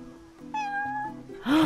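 A cat in Final Fantasy XV gives one clear, close meow with a rising then falling pitch. Soft game background sound sits underneath.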